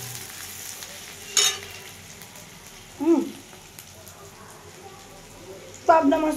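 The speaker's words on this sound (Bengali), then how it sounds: "পেঁয়াজটা ভাজছি।" Onions fry in a pan with a soft, low sizzle in the background. Three short clattering scrapes, probably stirring, rise above it at intervals, and a voice speaks quietly.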